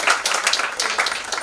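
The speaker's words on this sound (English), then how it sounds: "Huge round of applause for Team Excel." Brisk audience applause for a team at an inter-college homeopathic quiz contest, close and lively, with dense rapid clapping throughout the short burst.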